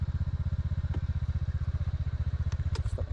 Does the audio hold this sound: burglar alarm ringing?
no